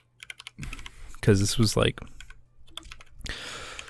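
Rapid clicking of a mechanical computer keyboard during a long typing session, starting as sparse taps, then continuing beneath a man's speech and ending in a denser burst of keystrokes.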